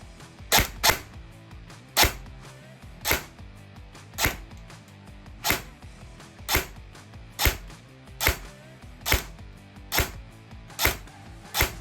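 An upgraded Zion Arms airsoft gun fires about a dozen sharp, evenly spaced shots, roughly one per second, loud and close, each a snappy pop with nothing else heard between.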